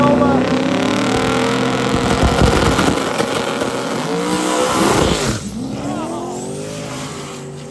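A twin-turbo big-block Nova race car roars at a foggy street-racing event, its loud engine droning steadily at close range with rising and falling revs.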